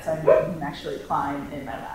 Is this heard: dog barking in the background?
yes